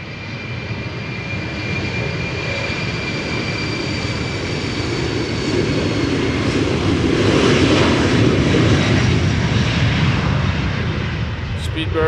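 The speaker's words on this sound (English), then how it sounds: "Speedbird flight 8496 going to London City, BA City Flyer, Embraer 190." A BA City Flyer Embraer 190 departing Amsterdam Schiphol, its jet engines roaring loudly and continuously as the noise swells slightly toward the middle of the take-off run.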